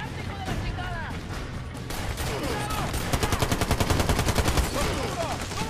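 Rapid light machine gun fire from the shooter game Army of Two: The Devil's Cartel rattles in dense, steady bursts with layered gunfire and impacts, loud and continuous throughout.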